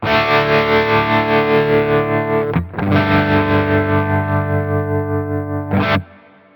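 A Quad Cortex tremolo effect set to full depth pulses a sustained distorted guitar chord in rapid, even throbs, then the chord is struck again and rings on before cutting off, loud with no talking.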